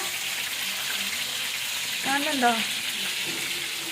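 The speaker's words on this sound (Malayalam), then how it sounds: "ഗൈസ് അങ്ങനെ നമ്മൾ ചിക്കൻ പൊരിക്കാൻ വേണ്ടിയിട്ട് വെച്ചിട്ടുണ്ട്" Chicken frying in a pan gives a steady, broad sizzle throughout, with a short voice rising briefly over it near the middle.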